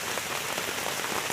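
Rain pours over a solo campsite, a dense, even hiss of drops striking surfaces close by, steady throughout with no voices.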